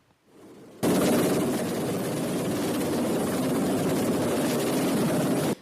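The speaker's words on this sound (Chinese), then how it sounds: "救援直升机停伫天顶" A rescue helicopter hovering over a mountain, its loud continuous rotor thrum starting abruptly and holding steady, close and dominant, until it cuts off at the end.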